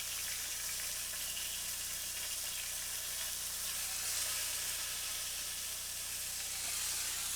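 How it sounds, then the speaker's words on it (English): Oil sizzling steadily in a steak pan during sautéing, a continuous close, even hiss with no talk over it. "This is the magic of sauteing."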